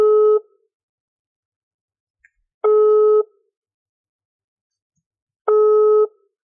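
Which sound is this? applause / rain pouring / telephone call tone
telephone call tone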